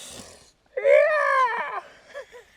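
A person vocally imitates the raspy, scream-like call of a Williamson's sapsucker, one strained nasal cry lasting about a second followed by a few softer squeaks, close and otherwise quiet.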